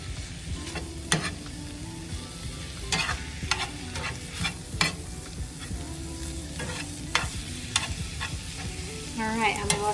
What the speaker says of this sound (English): I'm gonna let this simmer together here so all of these flavors can start coming together